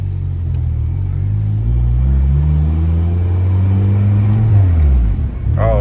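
A tuned Volkswagen GTI engine revs hard from close by, its deep rumble climbing and falling in long sweeps before a sharp burst of exhaust crackle and pops at the very end, with no talking.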